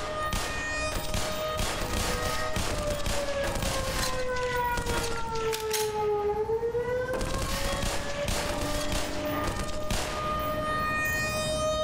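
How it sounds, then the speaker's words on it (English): A loud wailing siren in the video game Black Mesa sweeps down and back up in pitch, sounding continuously while rapid bursts of gunfire crackle and thump underneath. "Probably shut that alarm off, please. That siren."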